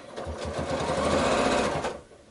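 Sewing machine stitching a quilted scrappy pouch, a fast, even mechanical chatter of needle strokes that ramps up, runs steadily close by, then slows to a stop.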